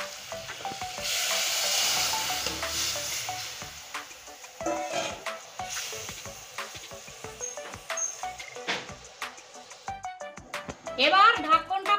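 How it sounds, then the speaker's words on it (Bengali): Hot spice tempering with ground garam masala poured into a rohu fish curry with potato and pointed gourd, hissing and crackling loudly at first, then settling into uneven spits and pops with scraping utensil sounds. "এবার তরকারিটা ফোড়ন ঢেলে দিচ্ছি।"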